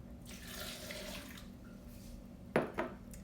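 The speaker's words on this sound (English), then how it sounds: "I'm gonna add about half a cup of water to this one." About half a cup of water poured into a blender for a raw vegan mason jar salad, a soft, quiet trickle followed by two brief clinking knocks near the end.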